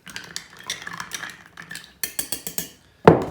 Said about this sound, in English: A couple of ice cubes. Give it a little stir.